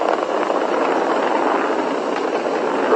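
Falcon 9 rocket engines roar steadily during a SpaceX Dragon launch, passing supersonic speed after throttling through maximum dynamic pressure; a loud, continuous broadband rumble that holds unbroken throughout.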